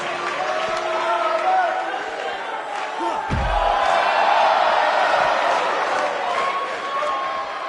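A sold-out arena crowd in a PS4 wrestling video game roars and cheers in a steady wash of noise, with a heavy slam thudding near the middle, while commentary voices talk over it.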